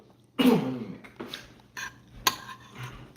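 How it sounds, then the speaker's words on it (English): A single throat-clearing cough up close, followed by a couple of softer clears and a faint clink, in an otherwise quiet room. "Why are you coughing up in your throat?"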